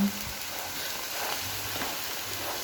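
Spices frying in a pan until golden brown, a soft, steady sizzle and hiss that continues evenly throughout, fairly quiet with no talk.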